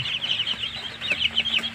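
Newly hatched native chicks chirp and cluck in a rapid, high-pitched chatter, close by, with a faint steady hum underneath.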